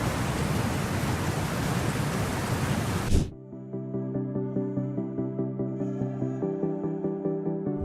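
Heavy rain pours as a dense, steady roar for about three seconds at a boundary where sunshine lies on one side and a church stands along the edge, then it cuts off abruptly and music takes over.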